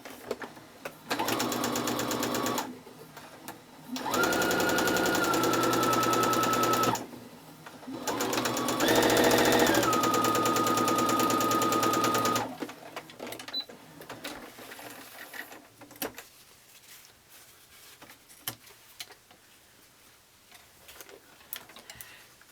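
A sewing machine stitching quilt fabric pieces with a quarter-inch seam, running in three close, rapid bursts of stitching separated by short pauses, followed by quieter handling clicks and rustling.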